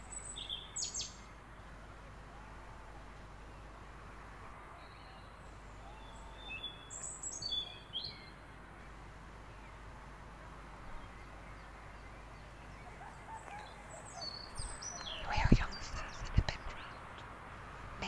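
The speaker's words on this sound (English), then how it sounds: "In the evenings, the birds can be pretty relaxing." Birds chirp faintly and intermittently on an evening in Holland, with short tweets scattered over a low, steady background hum.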